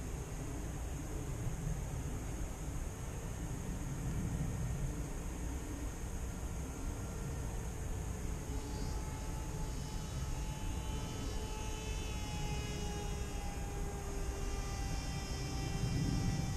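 A ZOHD Dart RC plane flies at a distance, leaving a faint, steady motor whine over a constant airy hiss, with the pitch shifting slightly as it passes.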